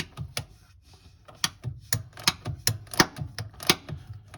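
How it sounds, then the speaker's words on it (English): A 13mm ratchet wrench clicks as it tightens the bolt at the top of the shifter linkage on a 2005-2009 Mustang GT TR3650 manual transmission. The pawl gives rapid, uneven bursts of close, fairly quiet ticks, with no voices. "Now I'm using a 13mm ratchet wrench to tighten up the bolt at the top of the shifter linkage."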